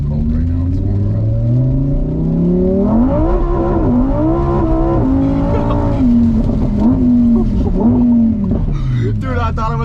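A 600 hp Lamborghini Huracan Evo accelerates hard on track, its engine note climbing and falling through the gears, loud and close from inside the cabin, with people talking over the roar.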